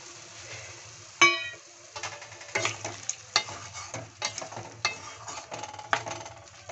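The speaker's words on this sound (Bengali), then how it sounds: "দিয়ে দেবো সামান্য জল।" A little water goes into a pan of frying capsicum and potato, with a bright metallic clink followed by hissing and uneven stirring scrapes nearby.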